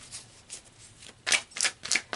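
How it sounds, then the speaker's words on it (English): Tarot cards shuffled by hand in quick riffling bursts, soft at first and then louder in three brisk flurries, close up with no talking. "So let's pull some more cards and dig deeper into this"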